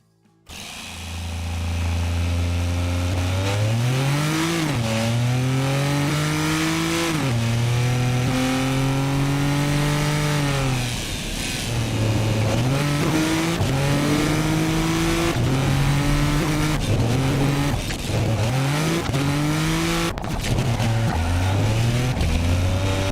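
A car engine in the racing game Automation revs on a virtual test track, loud and close, climbing through repeated gear-like pitch sweeps that drop and rise again over about twenty seconds, with no talking.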